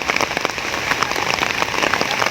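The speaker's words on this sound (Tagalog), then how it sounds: "Umuulan na guys, kahit umuulan panay" Steady rain falls in a dense, even patter of drops striking surfaces close by during windy weather. It continues without a break, with no speech over it.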